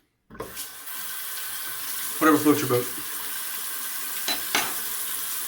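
Tap water runs as a face is rinsed after a wet shave, with splashing bursts in the middle, then a couple of short knocks; a brief spoken remark near the start.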